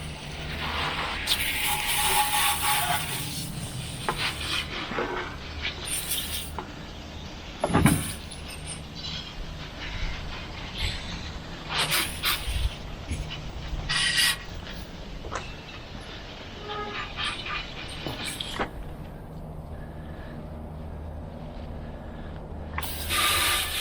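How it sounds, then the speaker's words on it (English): Water sprays onto a dirty motorbike during cleaning, making bursts of hissing spray that start and stop irregularly over a steady background rumble. "so we're just going to give it a spray with some water."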